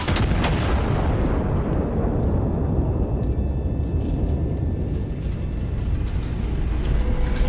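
A heavy turret cannon fires in the Iron Nest turret simulator, a loud blast at the start followed by a long rumbling roar that slowly fades, with faint mechanical clicks scattered through.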